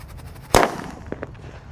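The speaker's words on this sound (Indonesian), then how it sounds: "Langsung kita nyalakan disco happy flower lap-lapder." A red disco happy flower firework goes off with one sharp, close crack, followed by a few fainter pops and crackles as it burns out.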